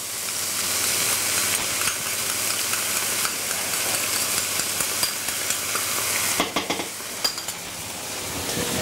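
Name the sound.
onions, garlic and peppers frying in a pan with ketchup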